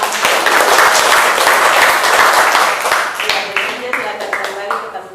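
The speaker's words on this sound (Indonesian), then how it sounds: "Kita berikan aplaus untuk" A classroom audience applauds after a group's class presentation, dense clapping that is loud at first, then thins into scattered individual claps, with voices mixed in.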